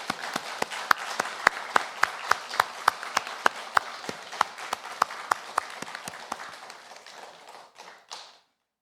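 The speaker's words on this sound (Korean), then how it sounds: "이 시간 찬양을 받기에 합당하신 하나님께 영광의 박수를 올려드리겠습니다." A church congregation claps together in a steady rhythmic beat, about three even claps per second, sounding loud and roomy before tapering off and stopping abruptly.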